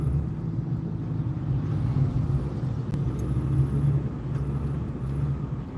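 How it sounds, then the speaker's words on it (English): A truck close behind a vehicle on the road gives off a steady, fairly loud low engine rumble that holds evenly throughout, with only faint clicks on top. "Yeah, it's a truck behind me."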